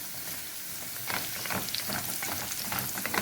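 Garlic frying in a pot for kofta and rice gives a bright, crackling sizzle that grows louder after a quiet start, with dense popping spatter throughout and no talking.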